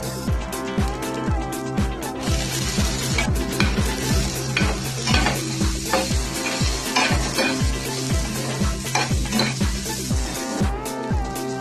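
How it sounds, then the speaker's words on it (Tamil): Onion and tomato sautéing for a spicy roadside-style kara dosa topping, with tamarind and salt stirred in: a steady sizzle under repeated close scraping and stirring strokes against the pan, with light clinks of utensils throughout. "இந்த காரமுக்கு தேவையான உப்பு எல்லாத்தையும் சேர்த்து நல்லா ஒண்ணா வதக்கிடலாம்"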